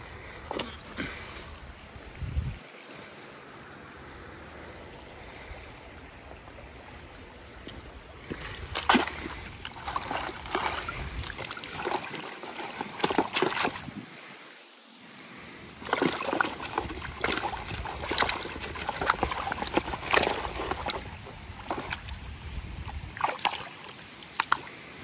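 A gold pan swirls and splashes placer gravel in creek water at Gold Bar Creek in Alberta, with close rhythmic sloshing and trickling that surges in bursts over a steady stream background.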